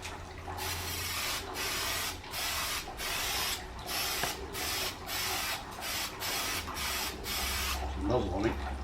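A spray paint can with a cracked nozzle hisses in a rapid series of short bursts with brief gaps, close and fairly loud, ending with a faint voice.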